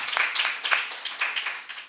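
An audience claps to welcome a panel at a talk on ending mass incarceration, a brief burst of scattered, moderately loud applause.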